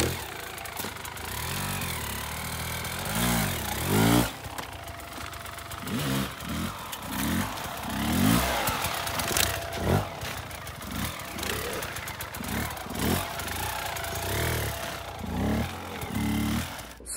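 Sherco off-road motorcycle engine running through steep zigzags and pivot turns, a rough, uneven mid-pitched engine note with repeated blips and surges, mixed with wind noise and clatter.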